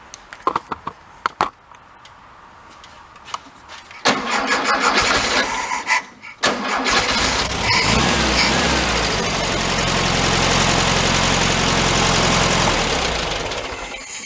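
An old VW Bug engine, parked for thirty years, is restarted: a few sharp clicks, then cranking that catches and fires into a loud, throttled run that settles into a steady close idle with no talking.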